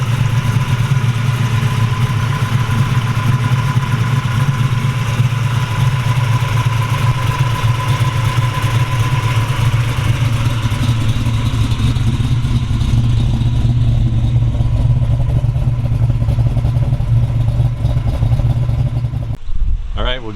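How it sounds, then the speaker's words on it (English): A 572 cubic inch, 620 horsepower GM crate engine in a 1970 Chevrolet Camaro Z28 pro-touring resto-mod idles loud and close with a deep, steady lumpy rumble throughout, shutting off abruptly near the end. "GM crate engine."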